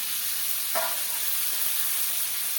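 Spice paste for a village-style cabbage and fish-oil curry sizzles steadily in a covered pan, and a brief scrape marks the lid being lifted early on as the frying hiss carries on alone.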